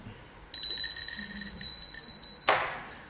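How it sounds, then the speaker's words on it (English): A small bell rung to summon a servant in an English stage comedy, giving a bright, sustained metallic ring for about two seconds, then a short clatter as it stops, with no talking. "Ring the bell."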